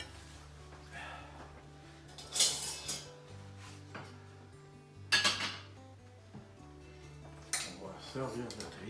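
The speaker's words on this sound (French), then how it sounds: "On va servir notre riz comme ça." Rice for General Tao chicken is spooned onto a plate, with a few sharp utensil clinks and scrapes against the dish between quieter stretches, close by over a low steady background hum.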